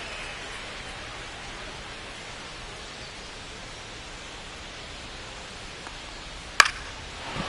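Steady rain falls in a baseball video game simulation as an even hiss of broadband noise, with one sharp tap near the end.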